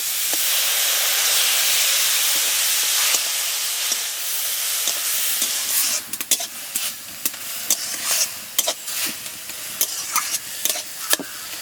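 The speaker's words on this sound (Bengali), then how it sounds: "অল্প অল্প জল দেবো আর গাজরটা আস্তে আস্তে নাড়বো" Grated carrots with salt and a little water cooking in a pan, a loud hissing sizzle at first, then a run of quick scraping stirs and spoon taps against the pan, close and alone without talk.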